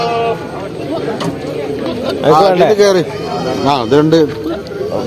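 Malabari goats bleat repeatedly at a goat market in Chattiparamba, several wavering cries in close succession, over a busy background of people chattering.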